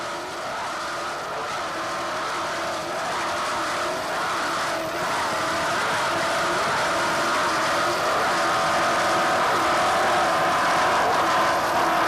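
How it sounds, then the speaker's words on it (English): Loud, steady roar of an offshore racing powerboat hull from 1988 carrying on without a break for the whole stretch, engines holding a strong sustained drone with no voices over it. "Boat sounds very strong right now."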